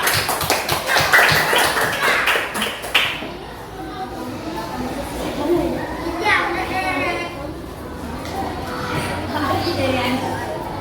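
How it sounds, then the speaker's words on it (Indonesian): Children in an Indonesian classroom clap for the red group in a brisk burst of quick, loud, rhythmic claps for about three seconds. It then gives way to children's chatter and voices moving around the room. "Tepuk tangan buat kelompoknya merah."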